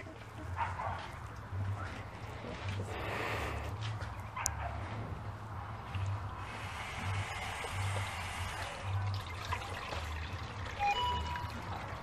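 Water poured over grated coconut to wash it, a steady splashing pour with some trickling, heard close and continuous alongside a dog barking and whimpering in the background.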